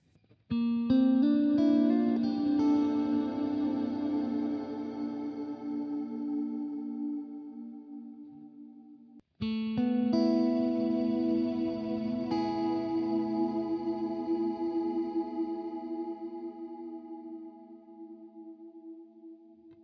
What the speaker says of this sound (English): Okay, here we have particle verb.